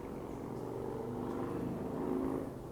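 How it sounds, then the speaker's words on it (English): A steady engine drone swells and fades slightly as an airplane passes overhead at a distance above the Douro River valley, with no talking. "airplane going by."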